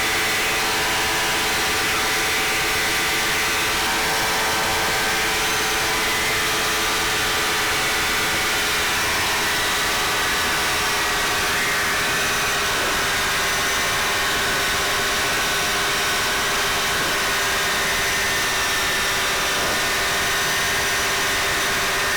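A Challenger 2 ultralight airplane engine runs at steady throttle with the doors off, a loud continuous drone with a strong steady hum and broad rushing wind noise, unbroken and close throughout.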